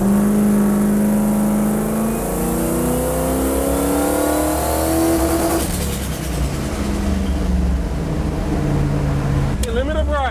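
V8-swapped Toyota Supra with a GT47 turbo, loud and close, running and revving on a dyno, its engine note rising steadily then settling into a rough idle while people talk over it.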